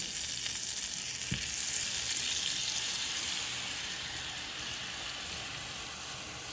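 Heavy whipping cream sizzles in a hot pan for a steak with shrimp and parmesan topping, a steady broadband hiss that swells then settles, with one brief low knock early on and no talk.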